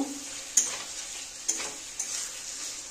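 Fried potatoes and carrots for a paneer curry are stir-fried in a spice masala with Kashmiri chili powder. A soft steady sizzle runs throughout, broken by three or four sharp spoon scrapes against the pan, all close and fairly quiet.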